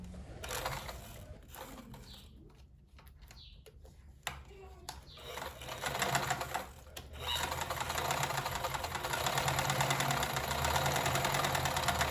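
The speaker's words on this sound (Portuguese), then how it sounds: "Começando com um retrocesso também no início e retrocesso no final." A sewing machine stitches denim and lining fabric together for a girls' flat shoe, starting with a few short stops and bursts, then running in a steady fast close whirring rattle, with backstitching at start and end.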